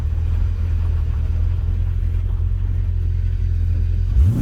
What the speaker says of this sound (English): Little wheel hop.